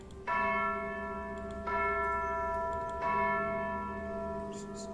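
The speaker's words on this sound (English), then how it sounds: "And she starts to ring the bell 3 times." A bell tone struck three times at a fantasy tabletop role-playing session, each clear ringing strike sustaining and decaying before the next, evenly spaced and alone without talk.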